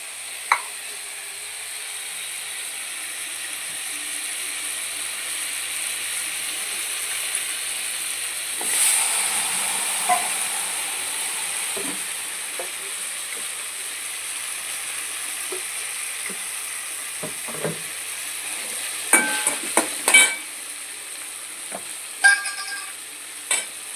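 Tomatoes sautéing in a pan for okra tamarind curry give a soft continuous sizzle, with occasional utensil clinks and stirring scrapes clustering toward the end.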